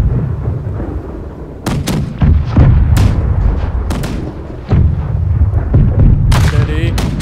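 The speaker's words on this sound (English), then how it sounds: "Load the port side cannons immediately!" Ship cannons fire in a broadside during a team deathmatch in the naval video game Blackwake, aboard a British galleon. There are several loud, close booms at uneven intervals over a rumbling background.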